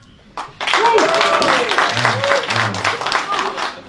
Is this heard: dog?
no